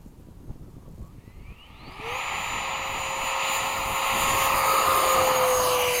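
An F-15 fighter jet taking off, its engine roar swelling from quiet to a loud, steady, rising whine and rumble that builds and holds over several seconds.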